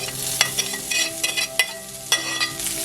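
Carrots, onions and garlic are sautéed and stirred in a pan for a Greek carrot sauce, giving a steady close sizzle broken by sharp scraping clicks of the spoon.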